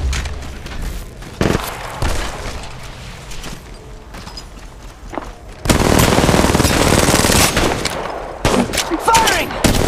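Bursts of automatic gunfire and single shots ring out in an Apex Legends Mobile match, rapid loud rattling volleys with pauses between, growing denser and heavier toward the end.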